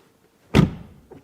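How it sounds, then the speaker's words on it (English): A Porsche Macan EV's frameless car door shuts with a single solid, close thud that tails off quickly, followed by a faint soft knock. "door closing sound"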